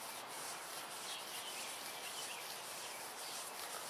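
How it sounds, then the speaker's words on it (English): Crushed poison ivy leaves rubbed against bare skin give a steady, soft, close rustling friction that carries on without a break, with no voices over it. "Just rub that on there just like that."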